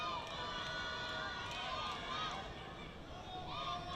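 Nepal rugby supporters at a sevens tournament, crowd cheering and calling out in a sustained wash of voices, with a few shouts rising above the steady noise.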